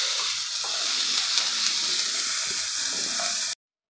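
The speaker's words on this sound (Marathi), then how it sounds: "हे टोमॅटो गळेपर्यंत आपल्याला हे सगळं साहित्य भाजून" Onion and tomato masala with two medium tomatoes frying in a pan, a steady close hiss of sizzling with faint stirring scrapes under it, cutting off abruptly near the end.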